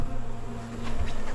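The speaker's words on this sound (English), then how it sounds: "And I got a few bees in the top box." A dense, steady buzz of honey bees at an opened beehive in late September, loud and continuous throughout with no voices.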